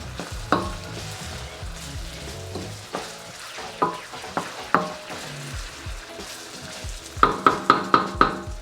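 Garlic added to onion and ginger sautéing in a pan for chicken pastil, a soft continuous sizzle with clinks of a spatula on the pan, a rapid run of taps near the end, close and without talk.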